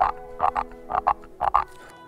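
Small toads croaking in a marsh, three or four short paired croaks in an uneven rhythm, close and fairly loud with no voices.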